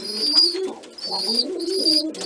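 White pigeons cooing close by indoors, a run of soft, low rolling coos in overlapping phrases repeated several times, with higher bird chirps above.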